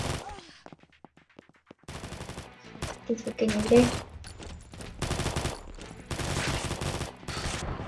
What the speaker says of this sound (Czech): Teď po mě někdo střílí